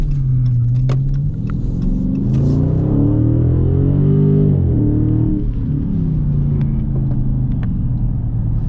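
A 2020 Dodge Charger Scat Pack with a 392 Hemi V8 rumbles deep and loud from close by, its idle swelling into a brief rev and settling back down.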